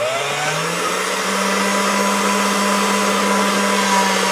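Motorized pasta machine rolling polymer clay, giving a steady, close electric whine with a constant hum that shifts slightly in pitch once and then holds for several seconds, with no talk.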